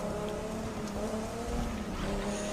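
Car engine in the racing game The Crew 2 at a 1950s-themed event, revving steadily at high pitch through the gears, shifting tone as the car accelerates, moderately loud and continuous.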